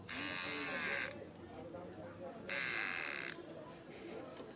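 A Kemei KM-5017 electric hair trimmer running after repair gives a near, steady high-pitched buzz in two bursts with a pause between, while a person talks throughout.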